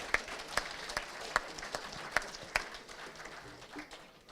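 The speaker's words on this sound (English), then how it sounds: "a round of applause for all of our vote getters in the Lipscomb Medal." Audience applause at an awards night for the vote getters in a football league medal count, with sharp, evenly spaced individual claps standing out over a softer wash of clapping that fades toward the end.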